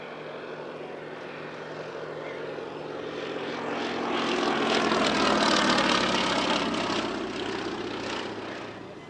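Westland Lysander propeller aircraft flying at an airshow, a steady propeller drone that rises and grows louder as it passes nearer, then eases slightly, with no voices.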